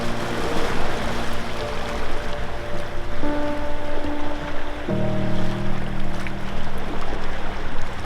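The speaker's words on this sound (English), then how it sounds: "That's the Brittany ferries." A Brittany Ferries ship passing at sea at night, heard from a cliff-top camp, drones with a low steady engine hum and shifting tones over a continuous wash of sea noise.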